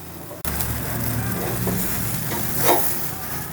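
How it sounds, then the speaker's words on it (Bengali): Chicken grilling over a low oven flame, a steady close sizzle and hiss that begins abruptly and holds, with a faint low hum underneath and a brief scrape near the end. "ধিমে আঁচে আমি চিকেনটা গ্রিল করব"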